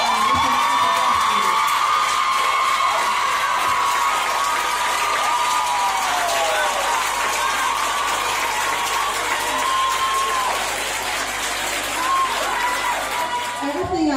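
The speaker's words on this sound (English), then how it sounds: "give this man, Howard Heslop, a round of applause" A seated audience stands and applauds Howard Heslop with sustained, dense clapping, scattered cheers and whoops rising over steady room noise, and a few voices calling out through it.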